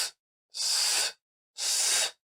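Two forceful breaths pushed out from the diaphragm during a singing breathing exercise, each a broad airy hiss lasting about half a second, separated by short silences, close and without any voice.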